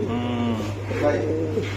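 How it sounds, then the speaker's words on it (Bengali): Soft pigeon cooing close by, low and throaty, over a steady hum and murmuring voices. "এটা কি কবুতর?"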